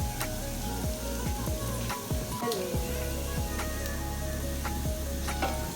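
Curry powder, thyme and spices for coconut fried rice being stirred in a hot pan, giving a loud continuous sizzle with regular scraping strokes of the spoon throughout.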